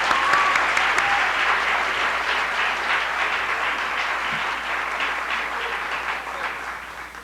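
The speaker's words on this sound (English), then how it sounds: "How about a round of applause" Sustained crowd applause, dense steady clapping from a large audience that holds strong for several seconds before slowly thinning toward the end.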